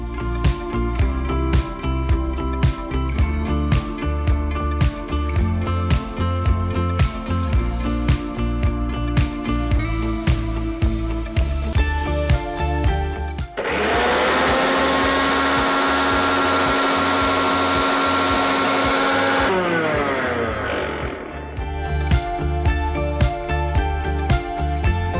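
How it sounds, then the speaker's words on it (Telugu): A kitchen mixer grinder blending betel leaves with a little water: short pulsed bursts first, then a loud sustained whirring run of several seconds that winds down, followed by more pulsing. "ఫస్ట్ మనం తమలపాకు మిక్సీ పట్టేద్దాం"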